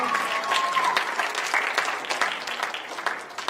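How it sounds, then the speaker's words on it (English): School assembly audience applauding, many hands clapping together in a sustained, fairly loud burst that gradually thins toward the end. "a round of applause for helping us sing that song"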